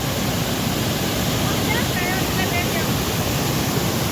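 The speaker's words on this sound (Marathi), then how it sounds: "हे बघा खूप मोठा धबधबा तयार झालाय" A continuous, loud roar of rushing water from a large waterfall near a village farm fills the scene, steady and broad, close by, with no breaks.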